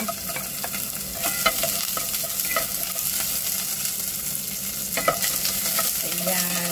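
Garlic and onion dropped into hot oil for a patola and fried fish meal sizzle loudly and continuously, broken by scraping and clattering stirs close by, with a brief word spoken.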